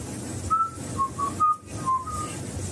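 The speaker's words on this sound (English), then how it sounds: "Unless you just whistled twice, we just heard that again." Several short, clear whistled notes sound in a quiet theater, spaced irregularly across a couple of seconds with pauses between them, with no talking.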